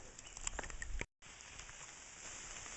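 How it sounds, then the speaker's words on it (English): Light rain begins pattering through a forest on a hiking and camping trip, a faint, steady spread of soft drops and small ticks, briefly cut to silence partway through. "So it's really starting to rain."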